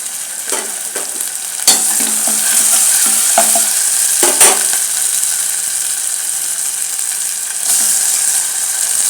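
Green chillies sizzle steadily in a hot pan while a spoon scrapes and stirs in several sharp strokes, close up, with no talking.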